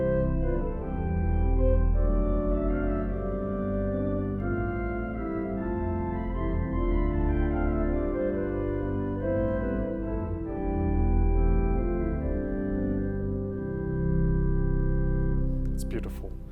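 Solo stop of a 1906 Felgemacher pipe organ combined with a 4-foot flute sounds a steady, sustained chordal passage, full and resonant in a reverberant room, with a brief click near the end.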